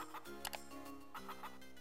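A few short clucking sounds from a chicken in Zelda: The Minish Cap, small and synthetic-sounding, over a quiet musical background.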